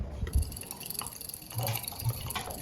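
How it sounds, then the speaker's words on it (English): Water poured into a test tube holding a crystalline salt during a chemistry practical, a faint trickling and dripping with a few small splashes, close and quiet. "So I'll pour water here to dissolve it."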